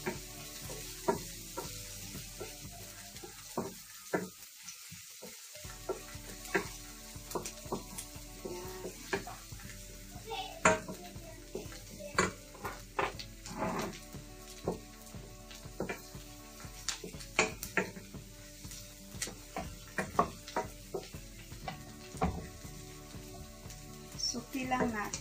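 Onion and garlic sautéing in a pan for Swedish spaghetti, a steady sizzle with frequent scraping stirs and clinks from a utensil, close and continuous with a brief pause early on.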